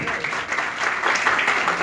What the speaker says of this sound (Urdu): زوردار تالیاں اس چیز کے لیے بجائیں